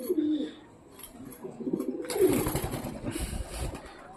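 Soft, low pigeon cooing in short rounded phrases, close by, with a burst of broadband noise and rustling partway through.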